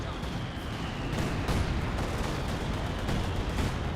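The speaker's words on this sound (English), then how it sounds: "A lot of mortars running on in" Mortar and artillery fire in the real-time strategy game Company of Heroes 2, a dense, continuous battlefield rumble with repeated booming impacts and scattered gunfire throughout.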